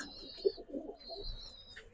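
Purebred pigeons at a pigeon farm coo softly nearby, a few low rolling coos in quick succession over a quiet background with faint higher bird calls.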